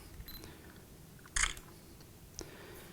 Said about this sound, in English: Let me take a shot so we can talk about it.